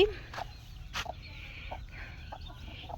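A hen clucks in short, scattered bursts, close by, over a low steady background rumble.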